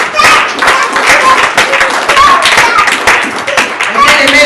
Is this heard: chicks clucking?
no